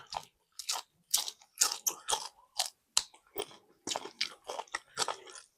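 Crunchy, wet bites of spicy pork noodles with plenty of vegetables, chewed close up in quick irregular bursts with short pauses between.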